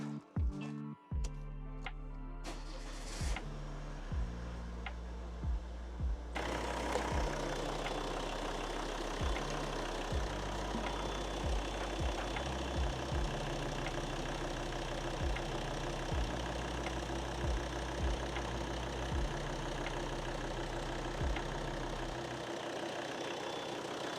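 A Volvo C30 D4 diesel with a faulty pre-heater starts after a few clicks and a short crank, catches, and settles into a loud, steady idle with faint periodic knocks. The idle continues for about twenty seconds before it quiets near the end.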